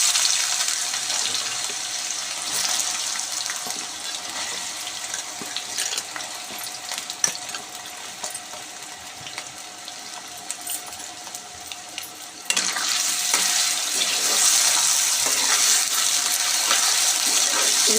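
Potatoes sizzle in well-heated cooking oil, a steady dense hiss that continues throughout and grows slightly louder partway through, with no talking.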